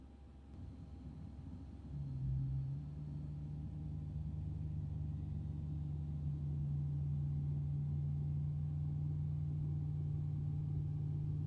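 A ToLiss A321's number 2 engine spools up in X-Plane 11, a low rumbling drone that swells after two seconds into a steady rising whine and holds loud and continuous, with no talk over it.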